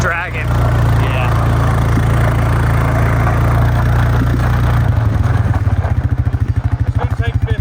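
A 1985 Honda CR500 two-stroke motorcycle runs loud and close with its tire dragging, a steady drone that shifts around five seconds into a rapid pulsing chug; voices talk over the engine.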